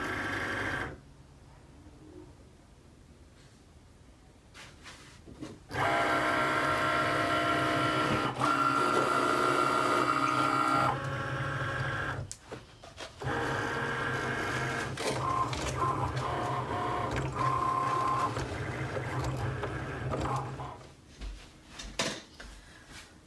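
Cricut cutting machine slicing 651 vinyl for a decal, a steady whirring and buzzing motor with brief pauses and shifts in pitch as the carriage moves, fairly close and without talk.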